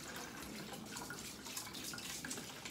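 Tap water running steadily at full flow over konjac rice being rinsed in a sink, a continuous close splashing hiss with no talk.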